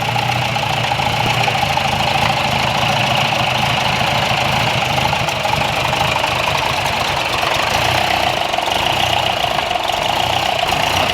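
A Toyota 22RE engine fitted with a big turbo runs at a steady, rough idle, close and continuous with a faint knocking texture and no talk.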